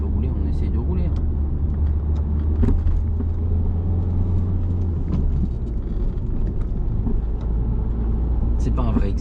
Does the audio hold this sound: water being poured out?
no